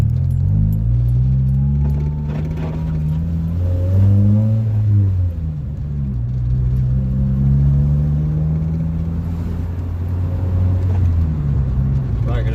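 A 2019 Chevrolet Camaro SS with its secondary catalytic converters deleted rumbles and revs up and down, a deep throaty exhaust note rising and falling close by, with no talking.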